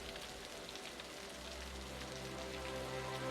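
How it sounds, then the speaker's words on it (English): Steady rain in the city-building game Cities: Skylines, a constant soft hiss of drops on surfaces under a low ambient hum, quiet and unbroken throughout. "Chillax there, rain."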